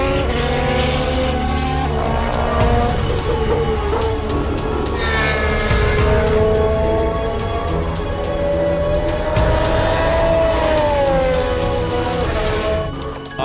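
Formula 1 cars in pre-season testing scream past with high revving engine whines that rise and fall as they pass, loud and layered over a constant rumble, with no voices.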